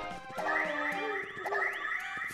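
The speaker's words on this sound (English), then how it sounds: "that was the sound of when you whack something haunted" A Paper Mario game sound effect for whacking something haunted: a warbling, wavering electronic tone with gliding pitch, repeating in a rising and falling pattern at low volume, with no talk over it.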